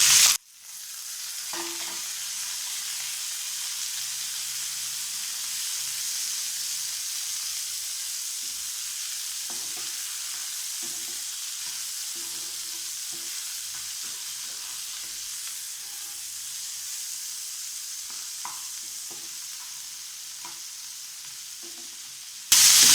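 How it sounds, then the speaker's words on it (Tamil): Onions sautéing in a pan for chickpea masala sundal give a steady close sizzle and hiss throughout, with occasional soft stirring scrapes and clicks and no voices. "லேசாக வதங்கினா போதும் வெங்காயம்."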